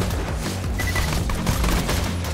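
Dense, continuous gunfire from several weapons in the Borderlands 2 shooter, a loud rapid fusillade with booming impacts layered over a steady musical score, close and relentless throughout.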